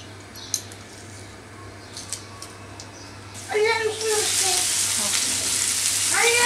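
Garlic hits hot olive oil in a pan, a soft background hiss jumping to a louder steady sizzle partway through, with a voice talking over the frying.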